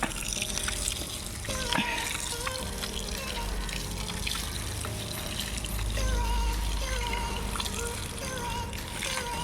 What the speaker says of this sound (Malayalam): മേഡത്തിൻ്റെ പുറത്ത് വെള്ളം ഒഴിച്ചേ പറ്റും